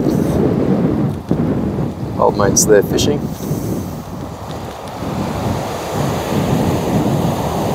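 Strong wind roars and buffets the microphone at a hilltop campsite with a constant rushing rumble, while someone speaks briefly over it.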